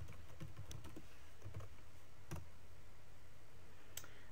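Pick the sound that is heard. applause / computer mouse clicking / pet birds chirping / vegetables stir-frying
computer mouse clicking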